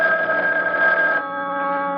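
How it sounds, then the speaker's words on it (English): A telephone rings in a 1976 radio drama, a steady electronic bell tone with bright, even harmonics that holds for about a second and then shifts to a softer sustained tone, fairly close and alone. "Telephone is ringing."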